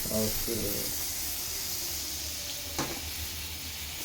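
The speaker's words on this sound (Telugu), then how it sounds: "బటర్లో స్వీట్ కార్న్ వేయించుకుందామండి స్నాక్స్ లాగా బటర్లో వేయించుకుంటే బాగుంటుంది" Sweet corn frying in butter in a pan, a steady broadband sizzle that runs through the whole stretch, close and fairly loud, with a brief voice near the start.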